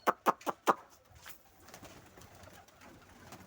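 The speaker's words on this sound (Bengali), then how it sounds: "তো এই আজকের ভিডিওতে এখন কবুতরগুলোটা খাবার দিই।" Pigeons coo close by at a feeding spot, four sharp, rhythmic coos up front followed by softer, scattered cooing and rustling in the background.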